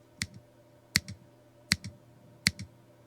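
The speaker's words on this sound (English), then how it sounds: "pressing your mouse or trackpad button over each button triggers the clicking sound" Button clicks in the Animate program, triggered by pressing a mouse or trackpad button: four evenly spaced sharp clicks, each followed by a softer echo tick, clear and isolated against a quiet background.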